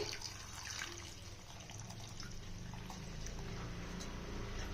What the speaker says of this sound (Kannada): ಇವಾಗ ನೀರು ಹಾಕ್ತೀನಿ